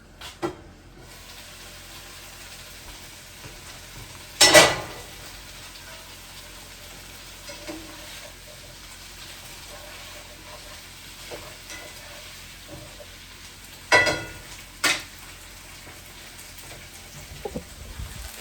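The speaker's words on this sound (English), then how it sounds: "Okay, got them sizzling." Bluegill frying in butter in a pan, a soft steady sizzle that stays faint and close throughout, broken by a couple of brief sharp clatters near the start and again later.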